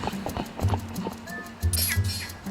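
Hooves of a horse in The Legend of Zelda: Twilight Princess clip-clop in a quick, steady rhythm, close by, and a brief whinny near the end.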